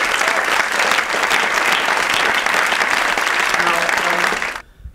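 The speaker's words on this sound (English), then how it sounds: "So I would like to hear a round of applause for Sky for Sky." Loud, dense audience applause at a festival speech event fills the room steadily, then cuts off abruptly near the end.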